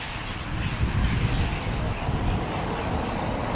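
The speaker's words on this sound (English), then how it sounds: "ATR to Leeds Bradford." An ATR turboprop airliner bound for Leeds Bradford at Dublin Airport, a rough low rumbling engine noise mixed with wind buffeting, swelling slightly and holding steady.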